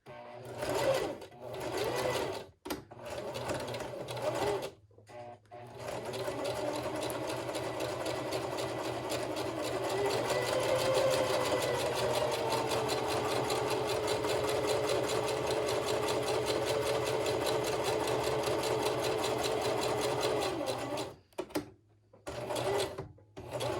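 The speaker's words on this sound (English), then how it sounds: "I'm just going to sew along this edge here." A sewing machine on a low setting stitches along an edge of doll hair made with yarn and tulle, a steady close whirring run of about fifteen seconds framed by short starts, stops and handling clicks.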